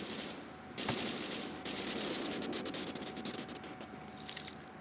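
AK rifle fire in the online shooter WARMODE, a dense stream of rapid gunshots at moderate level that runs the whole time, with one sharper crack near the start and no voices.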